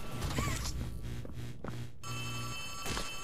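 A telephone bell in the Poppy Playtime horror game rings in repeated bursts, loud and close, with short gaps between rings and brief game noises layered on top.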